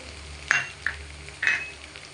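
A spoon stirs potato fry in a pan with chili powder, chicken masala and coriander powder, giving three short scraping clinks against the metal over a low steady background hum.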